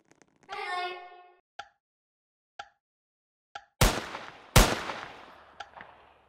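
Gunfire in the Roblox Squid Game, with two sharp loud cracks that ring out and decay, alongside a drawn-out tonal cry and several short clipped blips in an otherwise quiet game soundscape.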